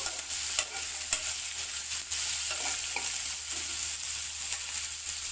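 Kantola (spiny gourd) being stirred as it fries in a pan, a continuous loud sizzle broken by scraping, clacking spoon strokes at irregular intervals, with no voices.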